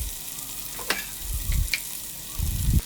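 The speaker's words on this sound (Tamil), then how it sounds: "செவந்ததுக்கப்புறமா நம்ம நீட்டமாக கட் பண்ணி வச்சுருக்கிற வெங்காயத்தை ஃபுல்லாக ஆட் பண்ணிடலாம்" Long-sliced onions go into hot oil in a pan with cashews, giving a soft sizzle, with a few sharp clinks and a couple of louder scraping stirs near the end.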